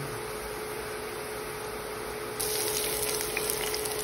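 Pork kaldereta stew simmers in a pot, a quiet steady bubbling hiss with a faint constant hum beneath, growing slightly louder and busier partway through, with no talking.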